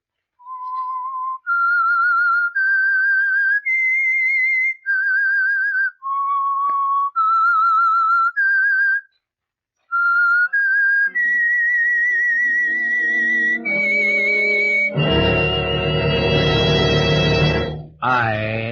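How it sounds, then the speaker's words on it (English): The signature whistle of The Whistler radio show, a solo human whistle carrying a slow eerie tune of sustained notes in separate phrases, loud and close, followed by a swelling orchestral chord at the end. "That whistle is your signal for the Signal Oil Program,"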